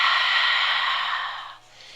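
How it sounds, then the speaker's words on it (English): A forceful open-mouth exhale during yoga breathing comes as one long, breathy whoosh close to the mic, fading out after about a second and a half. "Open mouth, exhale, breathe it out."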